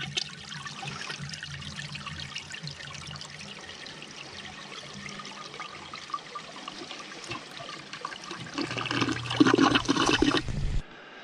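A toilet flushes with a long gurgling rush of water that trickles and swirls, swelling louder near the end before cutting off.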